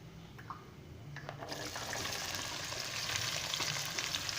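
Onions fry in oil in a pan for okra curry, with a quiet sizzle that swells into a louder, steady crackling hiss after a soft start, and faint stirring sounds.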